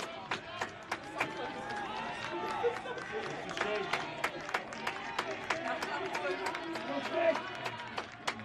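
Spectators at a college baseball tournament championship game clap in loose, uneven bursts with scattered cheers and murmuring chatter. The crowd is moderately distant and fairly faint.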